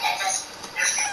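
Chicken clucking in the Fortnite video game, two short bursts of bright, scratchy game-audio clucks close up, with faint voices underneath.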